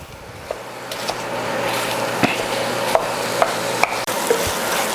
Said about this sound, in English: So I'm just going to break up this chorizo a little bit.